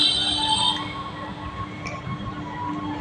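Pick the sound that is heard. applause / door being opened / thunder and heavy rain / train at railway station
train at railway station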